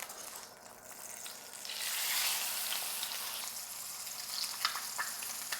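Tilapia fillets sizzle in a pan of oil and butter, a steady close hiss and crackle that swells louder midway and carries on with occasional pops, no voices.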